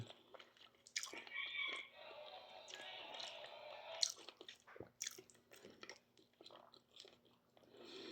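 Crunchy vegetables from a bowl of bulalo beef soup being chewed close up, a quiet run of crisp bites and mastication sounds with small clicks, faint and intimate over low background hum.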